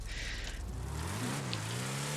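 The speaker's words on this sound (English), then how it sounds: "Engine sound is great. This is based on the Chevrolet" Declasse Draugur off-road car, modelled on a Chevrolet off-road concept, in GTA, its engine revving up with a rising, loud throaty drone, heard alone without talk.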